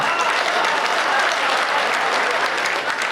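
Sustained applause from a large audience at an Indian poetry recital (kavi sammelan), steady and dense throughout, with no voices standing out.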